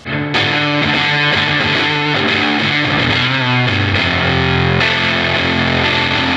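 Improvised psych rock guitar played through fuzz and drive effects, a loud, thick distorted sound with shifting chords and noodling lines that runs without a break and carries no talk.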